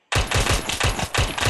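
A toy Glock 17 pellet gun firing many pellets in a rapid burst, loud snapping pops in quick succession with a clattering rhythm, close and alone.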